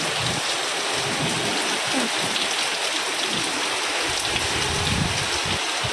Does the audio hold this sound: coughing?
no